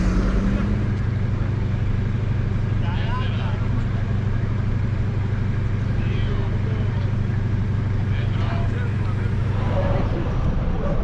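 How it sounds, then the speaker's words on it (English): Scooters and a bus roll onto a car ferry at Ithaca, Greece: a continuous low engine rumble and hum of idling vehicles fills the scene, with faint revs and background voices over it. "The scooters are going on, and I think a bus is going on."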